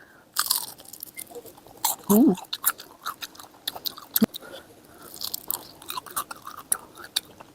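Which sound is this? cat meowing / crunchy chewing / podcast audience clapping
crunchy chewing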